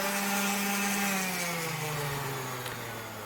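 An orbital sander fitted with 150 grit sandpaper works on wood, its motor humming loud and close with a steady whir whose pitch slowly sinks as it runs.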